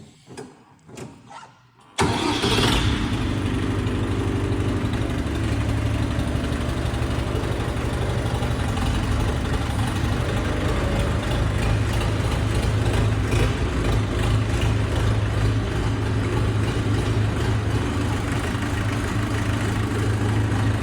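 A Fighter T-404RD 40 hp mini tractor engine cranks briefly and catches, then settles into a loud, steady close-up idle that runs on unbroken, with no talk over it.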